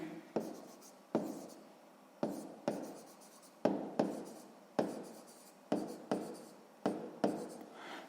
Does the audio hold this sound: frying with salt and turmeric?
no